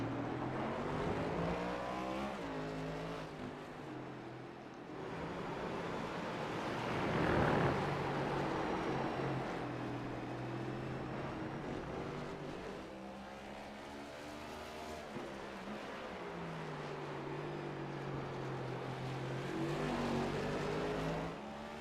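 Race cars in a racing video game lapping the COTA circuit, engines droning steadily with rising and falling pitch as they accelerate and shift, several cars overlapping, continuous and moderately loud without speech.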